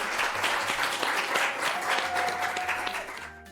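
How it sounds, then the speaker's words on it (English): An audience applauds Sharon, recipient of the 2025 Silver Citizen Award, at a community award ceremony: dense, steady clapping from a crowd, fairly loud and even throughout, with no talk, cutting off abruptly at the end. "How about one more round of applause for Sharon?"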